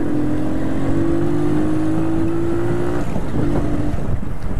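A Yamaha SZ R 150 motorcycle with a hard-starting problem idles loudly and steadily up close, its engine note holding a low hum before dipping and revving again.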